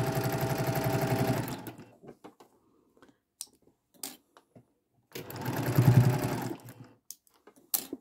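A sewing machine stitches a quilt strip in two bursts of rapid mechanical whirring, each a second or two long, with scattered clicks and small handling knocks in the quiet gap between them.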